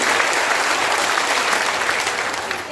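Loud, dense applause from a large crowd at a political rally in Bihar, a continuous wash of clapping that holds steady and close without speech.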